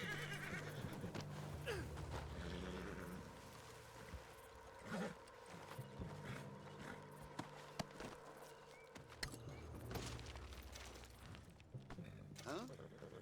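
A horse whinnies and neighs in the Red Dead Redemption 2 video game, with clip-clop hooves and flowing water under a steady ambient bed, moderately loud and without speech.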